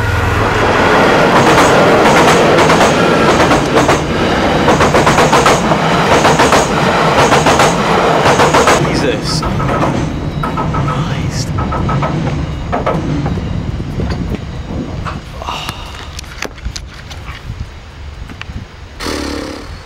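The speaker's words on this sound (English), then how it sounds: "There's something coming, something very loud's coming. It sounds like a train." A loud train passes over a bridge on a remote New Zealand trail. Heavy rumbling and rhythmic wheel clatter are close and strong at first, then fade as the train moves away.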